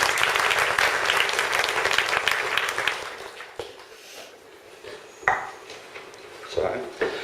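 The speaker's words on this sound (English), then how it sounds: "So I'd like to give them a round of applause for those 200." An audience at an awards speech applauds loudly for a few seconds before the clapping fades away, leaving quiet room noise, scattered knocks and clatter, and a bit of talking.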